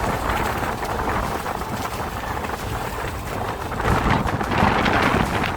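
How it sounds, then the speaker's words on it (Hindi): Strong wind roars at Garbett Point viewpoint in the Matheran hill station, a loud, continuous buffeting rush across the microphone that swells slightly near the end, with no voices. "ऐसी हवा चल रही थी उस व्यू पॉइंट पर कि हवा हम तीनों को पीछे ढकेल रही थी।"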